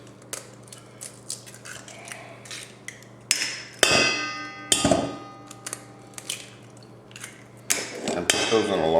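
Eggs being handled for a breakfast casserole in a home kitchen: sharp clicks, taps and knocks of shells against hard surfaces, scattered and uneven, with a few louder clatters toward the end.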